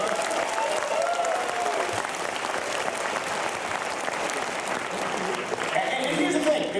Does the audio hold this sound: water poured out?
no